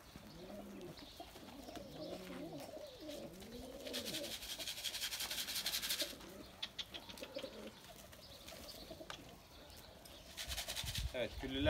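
Pigeons in a coop coo repeatedly in soft, rolling, rhythmic calls at close range, with scattered chirps and bursts of wing flapping.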